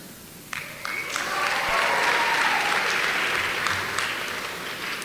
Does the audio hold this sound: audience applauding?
yes